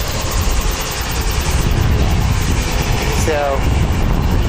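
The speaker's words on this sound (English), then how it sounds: "ATR going to Nelson." An ATR turboprop airliner departing Wellington Airport for Nelson gives a loud, continuous engine drone with a brief rising whine near the end, and a voice speaks briefly over it.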